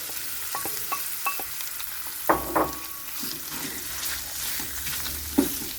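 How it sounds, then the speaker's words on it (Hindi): Chicken fries in hot oil in a pan with a soft, continuous sizzle, punctuated by several sharp clinks and scrapes as it is stirred. "पैन में हमने ऑयल गरम कर लिया है। चिकन डालेंगे।"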